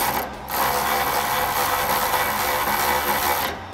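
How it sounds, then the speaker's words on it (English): A 3/8 ratchet with a 16 millimeter socket snugs up bolts on RedRock side armor on a 2021-2023 Ford Bronco. The pawl gives a fast, continuous close clicking for about three seconds. "my 3/8 ratchet with my 16 millimeter and snug these up"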